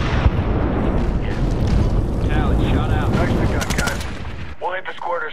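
Artillery fire and explosions in the Xbox 360 game Medal of Honor: dense, loud booms and rumbling gunfire fill most of the stretch, with voices calling out over the battle before it thins near the end.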